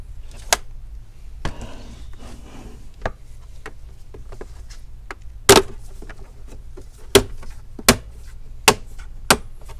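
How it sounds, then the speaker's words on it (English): Plastic clips snap and crack as the back plate of a Dell Inspiron 5400 laptop is pried open, several sharp, close clicks spaced irregularly over faint background noise. "So you can hear this little cracking noise."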